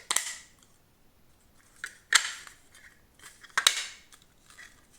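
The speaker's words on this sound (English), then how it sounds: "Assemble and click the latch into place." Latch on a Bambu Lab A1 top-mounted AMS mount being snapped shut: a few crisp, close plastic clicks and snaps spaced about a second or more apart, with no talking.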